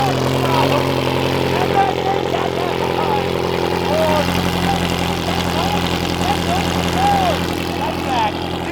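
A Ferrari supercar's loud, steady engine drone idles throughout with a deep constant rumble, overlaid by warbling tones and chatter.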